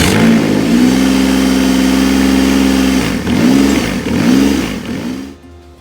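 A freshly rebuilt engine in a college auto shop runs loud and close, holding a steady idle before several quick revs rise and fall, then dropping off near the end.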